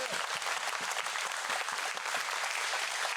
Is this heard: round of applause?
yes